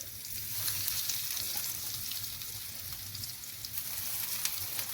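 Chicken kebabs frying in oil in a pan give a steady, dense sizzle with constant crackle and no voices, holding at an even level throughout.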